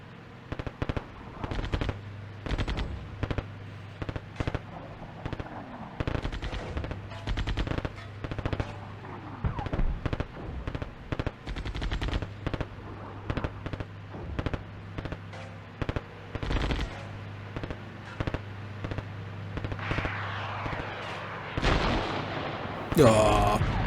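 Gunfire in the wargame Armored Brigade II during a hold-the-line mission: rapid machine-gun bursts and single shots crackle in an almost continuous, fairly close stream for the full stretch, with heavier thuds mixed in.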